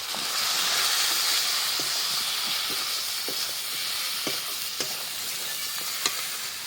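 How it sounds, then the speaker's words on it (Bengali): Chicken sizzles in a hot pan with chili powder, salt and turmeric, a loud continuous frying hiss with occasional sharp clinks and scrapes of stirring throughout. "এবার সব কিছুকে খুব ভালো করে কষাবো।"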